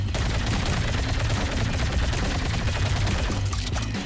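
A toy gel blaster gun firing gel beads in rapid continuous automatic bursts, a dense, loud, steady rattling chatter that runs without pause for several seconds.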